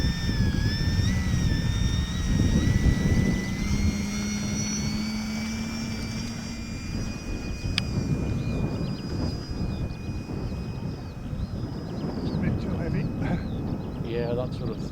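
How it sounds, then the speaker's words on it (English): A 3D-printed Focke-Wulf 190 model plane flies on its first flight, its engine whining at a changing pitch as it passes overhead at a distance, with outdoor noise and people talking. "Nice little aeroplane."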